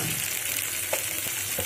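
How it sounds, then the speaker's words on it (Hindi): Spiced gravy with turmeric, red chilli and coriander powder sizzles and fries in a pan over a low flame for lauki kofta, a steady close hiss with a few soft stirring scrapes. "हम अपने ग्रेवी को 5 मिनट के लिए लो फ्लेम में भूनेंगे"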